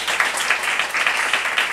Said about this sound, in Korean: 하나님이 살아계신 걸 믿는 사람은 박수를 함께 올리겠습니다.